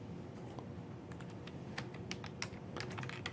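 Steady typing on a computer keyboard during a PowerShell scripting session, with quick irregular bursts of key clicks close to the mic over faint room hiss.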